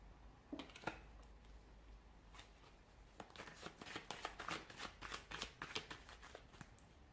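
A deck of tarot cards is shuffled by hand in quiet, close-up riffles and slides, with a string of soft rapid flicking bursts that grow denser toward the end.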